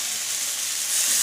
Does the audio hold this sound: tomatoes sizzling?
yes